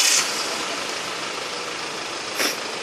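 A car engine idles steadily after being restarted, a close, even mid-range rumble holding for a few seconds with a brief brighter rise near the end.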